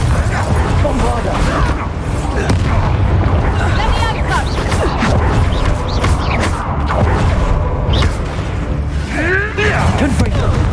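Confringo and Bombarda spell blasts in Hogwarts Legacy, heard as booming, rumbling magical explosions with swooshing effects, layered continuously over game sound and a voice speaking.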